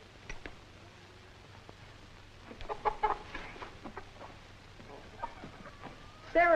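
Several chickens cluck on a farm, with scattered clucks and short calls that grow busier midway and end in one louder, close cackle.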